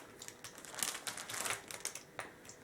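Plastic protein casing for homemade smoked pork sausage crinkles at close range in a quiet room, a series of soft crackling bursts with brief pauses between them.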